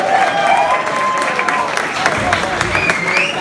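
Club audience clapping and cheering after an organ performance, a dense round of applause with whoops while a voice speaks over it.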